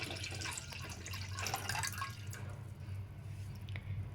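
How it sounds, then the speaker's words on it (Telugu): Water poured into a heated pot on a stove for rosemary water, faint splashing and trickling with dripping, fading off toward the end over a low steady hum. "కొంచెం ఇది హీట్ అయినాక వాటర్ పోసుకోవాలి."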